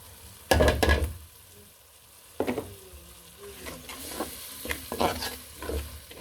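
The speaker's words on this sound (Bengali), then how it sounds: "এখন মশলাগুলো একটু কষিয়ে নিব ভালো করে।" Ground spices and green chili paste frying with onion and garlic in a pan, with sharp stirring scrapes and clatter over a steady sizzle, close and fairly loud, no talking.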